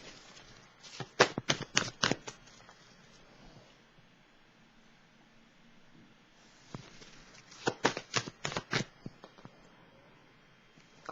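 Tarot cards are shuffled and drawn in two separate bursts of quick, crisp riffling and flicking, close and fairly quiet, with a pause of near silence between them.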